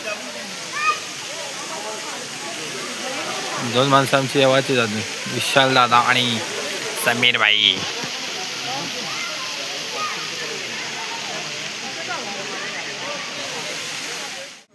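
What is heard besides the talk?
rain and waterfall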